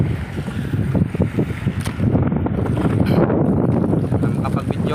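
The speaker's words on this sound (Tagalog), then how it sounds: "Lumakas na naman ang amihan mga buds." Strong northeast monsoon wind, the amihan, at sea aboard a small fishing boat, a loud continuous rush and buffeting against the microphone with splashing water, close and rough throughout.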